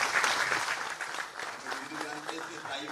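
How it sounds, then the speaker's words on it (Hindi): An audience at a Madhya Pradesh government trade portal launch event applauds to welcome a guest, a broad, steady wash of clapping from a crowd that fades slightly, with a voice speaking over it. "उनका ताली बजा के स्वागत कीजिए"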